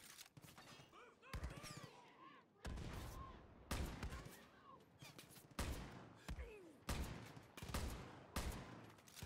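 Repeated bursts of gunfire in the video game Far Cry New Dawn, loud sharp volleys and rattling fusillades arriving every second or so, with brief speech in between.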